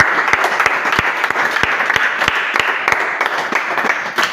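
A church congregation breaks into sustained applause, dense overlapping claps with a few sharper near claps standing out, loud and steady throughout with no clear speech.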